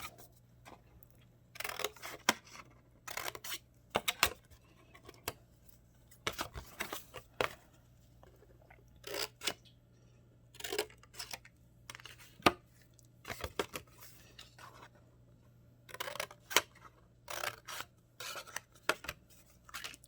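Scissors snip repeatedly while trimming a small angle cut in paper, sharp crisp cuts in short irregular clusters, close and fairly quiet over a low steady hum.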